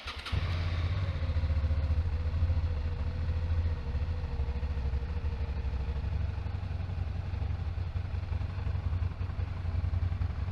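Motorcycle engine idling steadily while it warms up, a continuous low rumble close by that holds the same pitch throughout, with no talking over it.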